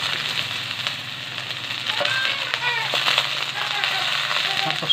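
Chopped onions sizzle steadily in a hot pan at the start of cooking pancit canton, a close, continuous frying hiss with faint crackles; someone speaks briefly over it.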